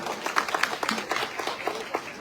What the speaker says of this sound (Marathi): त्यासाठी नितीनबाईंसाठी जरा टाळ्या होत्या